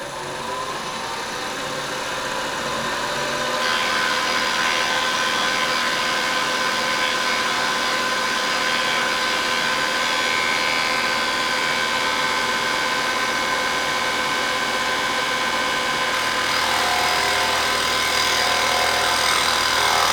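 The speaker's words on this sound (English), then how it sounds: "I just got this mill, so I'm really learning it right now." A newly acquired milling machine runs steadily in a home workshop, a continuous loud whining hum with a gradual rise at the start as it spins up and no talking over it.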